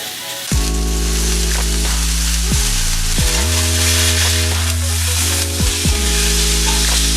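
Steak sizzles on a hot grill pan in a loud, continuous close hiss, while deep tonal sweeps and hums glide up and down over it now and then.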